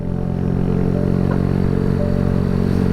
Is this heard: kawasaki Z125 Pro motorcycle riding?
yes